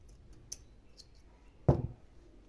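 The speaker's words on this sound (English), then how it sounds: "So I'm going to cut my yarn this other way as well." A single crisp snip of scissors cutting through crochet yarn, close and fairly quiet, after a faint earlier click in an otherwise hushed room.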